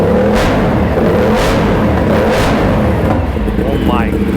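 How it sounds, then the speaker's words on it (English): An RS457 motorcycle fitted with a new air filter is revved in three quick, loud blips over a steady close engine drone, with a brief voice-like sweep near the end. "I'm gonna do some quick revs."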